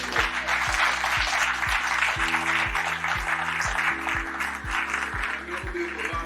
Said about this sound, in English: Can I ask that we just give ourselves a round of applause?